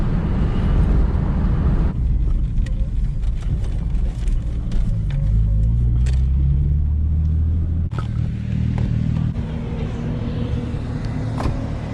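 A six-cylinder car with a manual gearbox drives steadily, its engine a continuous low rumble with gear changes and shifting engine tones throughout, heard from inside at close range with no talking.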